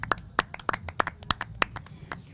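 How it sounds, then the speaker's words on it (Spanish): A small group of hands claps unevenly at an interview during a reggae festival, about a dozen crisp, sparse claps over roughly two seconds with no voices. "qué bueno, un aplauso, vaya"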